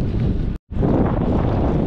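Strong wind roars across the microphone during a long bike ride, a dense continuous rush that cuts out for a split second and then returns just as loud.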